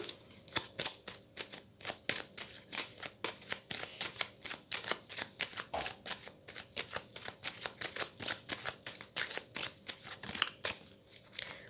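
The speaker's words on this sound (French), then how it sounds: "Je vais faire une coupe avec le tarot que j'utilise pour les consultations" A tarot deck used for card readings is shuffled and cut, giving a steady run of crisp riffling card flicks close by with no voice over them.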